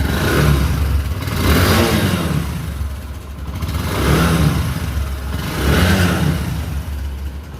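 A Honda motorcycle with CBS brakes, around 14,000 ridden, idles close by and is revved repeatedly, the engine note swelling and easing in roughly three slow waves with a steady clattering undertone.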